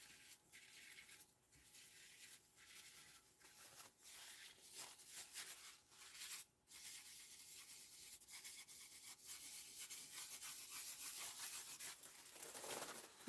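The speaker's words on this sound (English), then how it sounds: "I'm just going to give that a little rub, and it burnishes that gold back up." A roll of tissue is rubbed back and forth on a stamped card to burnish gold foil, a soft, faint, continuous papery scrubbing with short pauses.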